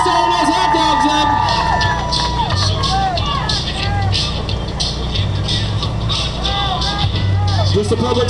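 Crowd cheering and shouting at an outdoor fire department hot dog eating contest, loud continuous babble with whoops and yells, a voice over a loudspeaker talking throughout.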